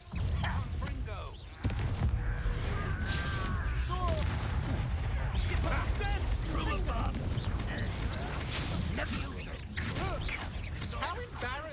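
The Confringo blasting spell is cast in Hogwarts Legacy, giving bursts of crackling, booming impacts mixed with clattering effects. The blasts sit under near-constant voices talking over the action.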